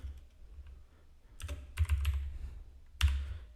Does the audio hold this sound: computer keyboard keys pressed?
yes